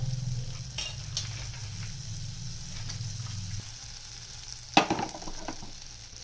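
Butter heating in a kadhai makes a soft, steady sizzle with a low hum beneath it, broken by one sharper clatter near the end.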